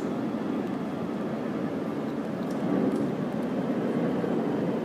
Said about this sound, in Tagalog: Daming aeroplano pa na dito.